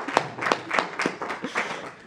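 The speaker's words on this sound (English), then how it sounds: "And can you please give a round of applause for my hitman there, for Jason?" Scattered applause at a Good News For All community event in Leeds, a handful of separate claps in an uneven rhythm, fairly faint and thin rather than a full crowd ovation.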